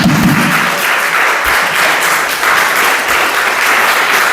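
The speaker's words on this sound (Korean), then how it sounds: "박수!" A church congregation claps loudly and steadily throughout, dense applause filling a worship service at a men's mission dedication gathering, with no talk over it.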